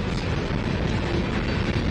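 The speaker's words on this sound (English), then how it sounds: "See what engines you got pushing." NYSW freight locomotives shove a string of Susquehanna sand hopper cars, giving a broad, steady rumble with no distinct detail, close and continuous, and no talk in the short stretch.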